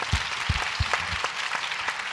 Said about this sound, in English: let's do a round of applause for them